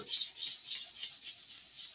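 Sandpaper on a hand sanding block rubbing over a wooden part in big circular strokes, a steady close-up rasping with rhythmic swells and no voices.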